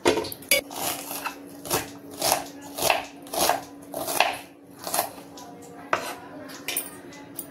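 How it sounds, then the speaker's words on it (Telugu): Onions being thinly sliced with a knife on a board for aloo kurma, a steady run of about a dozen crisp, evenly spaced chops, close and clear with no talking. "ఇక్కడ ఉల్లిపాయలు సన్నగా కట్ చేసుకుంటున్నా"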